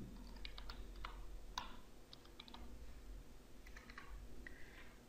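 Password typed on a computer keyboard: quiet, close clusters of quick key clicks with short pauses between bursts over a faint steady hum, no talk.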